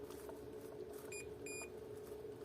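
A multimeter gives two short continuity beeps while its probes touch a Samsung Note 10.1 tablet battery, faint electronic tones over a low, steady room hum.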